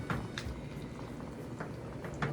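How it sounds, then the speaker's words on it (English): Chow chow vegetable relish boiling in a pot on the stove, a steady low bubbling with scattered soft pops and drips throughout, close and fairly quiet, no voices. "I'm gonna bring it back to a boil and then turn it back down."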